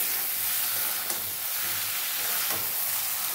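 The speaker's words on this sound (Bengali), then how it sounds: "চলো ডিম দেওয়ার পরে আবারও কিন্তু খুব ভালো করে কষিয়ে নেবো।" Fish roe sautéing in a pan with spices, a steady close sizzle and hiss with faint stirring scrapes now and then, no talking.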